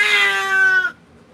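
A cat lets out a single loud, drawn-out meow close by during a lion-cut grooming session, the cry holding steady for nearly a second before cutting off to quiet.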